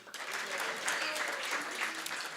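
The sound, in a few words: audience applause after a play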